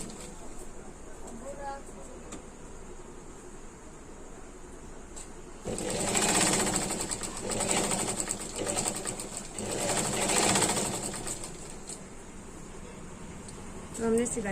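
Sewing machine stitching a hook strip onto a lehenga, a steady loud mechanical whir running in sustained bursts after a quieter start, with a brief speaking voice near the start.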